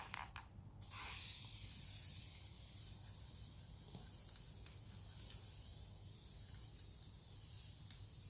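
A spray can of paint being applied to a wheel rim, giving a brief burst of close hiss at the start, followed by a steady, softer broadband hiss that continues throughout.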